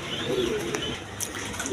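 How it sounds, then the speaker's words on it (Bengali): A pair of high-flying Giribaz pigeons coo in low, soft bursts close by, with a few faint chirps, and no one speaks. "বন্ধুগণ এইখানে হাই ফ্লাইং এক পেয়ার গিরিবাস কবুতর আছে"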